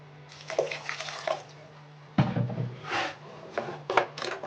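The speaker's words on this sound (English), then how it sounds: "I'm still gonna add water." Water pours and splashes into a pot of okpa batter in a few short bursts, with brief quiet gaps between the pours.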